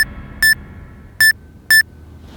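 A message notification on a phone beeps four times, with short, clean, high electronic tones spaced irregularly apart over quiet room background.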